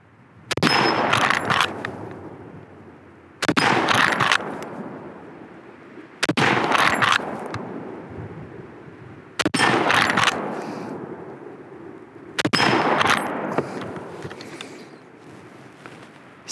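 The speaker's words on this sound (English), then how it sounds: "it's just so fun shooting these lever actions" Five loud, sharp gunshots from a Rossi R95 lever-action rifle ring out about three seconds apart outdoors, each with a long echoing decay and a metallic clack between shots.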